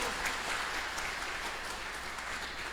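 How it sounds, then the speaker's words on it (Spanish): Church congregation applauding during a Sunday service, an even, continuous patter of many hands clapping, soft and somewhat distant, steady throughout with no talk over it. "Denle un aplauso a Cristo."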